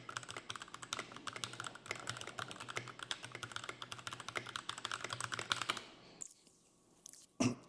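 Fast, steady typing on a computer keyboard, a close run of crisp key clicks that stops near the end with a final couple of taps, quiet and with no talk.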